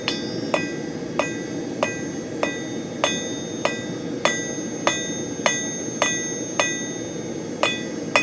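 A hammer forges a taper on a hand-made hook, sharp ringing blows landing in a steady rhythm about twice a second, close and clear, with no talking.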